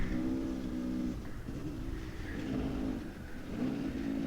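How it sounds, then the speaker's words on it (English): A motorcycle engine drones steadily at moderate revs in about fourth or fifth gear, a continuous mid-pitched hum with slight rises and dips, close and fairly loud with no talking. "You can kind of hear the bike now."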